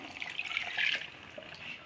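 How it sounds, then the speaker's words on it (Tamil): Water from a rinsed mixer jar is poured into a pan of chicken curry, a short, soft splashing stream that swells briefly in the middle before trailing off. "அந்த மிக்ஸி ஜாரை கழுவுன தண்ணி நான் சேர்க்குறேன்"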